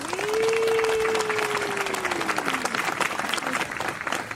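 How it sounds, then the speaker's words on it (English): Loud, steady applause from a studio audience welcoming a robot co-host onto a bird and parrot podcast, sustained for several seconds with a rising electronic tone sweeping through it. "let's have a big round of applause and welcome Robo Co-host Fred onto the show"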